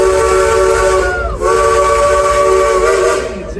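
Frisco steam train at Silver Dollar City sounding its steam whistle, a loud close chord-like blast that breaks briefly and resumes, then tails off, with no talk over it.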